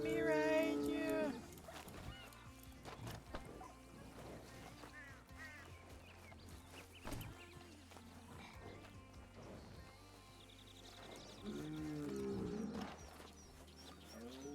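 A cow moos in a western role-play video game, low drawn-out calls near the start and again near the end, set against game ambience and other animal sounds.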